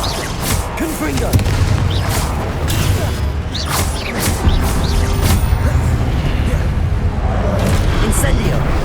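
A Confringo fire-blast spell explodes during a combat fight in Hogwarts Legacy, giving loud booming blasts and crackling bursts over a dense, steady backdrop of battle noise and voices.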